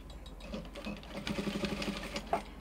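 Domestic sewing machine tacking a bra cup onto a bustier dress at the center, a short steady run of rapid needle stitches, close and clear with no talk.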